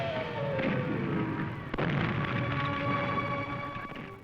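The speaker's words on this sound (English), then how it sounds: "On summer evenings, fireworks displays are set off over the gardens and the fountains." A fireworks display bursts over the gardens and fountains of Versailles on a summer evening, heard as a dense, continuous rumble of booms and crackle with one sharp crack partway through, in an old, hissy recording.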